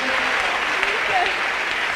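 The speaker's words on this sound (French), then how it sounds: "Let's clap for Jesus." A congregation at a deliverance service clapping for Jesus, with dense continuous applause filling the space and voices speaking over it.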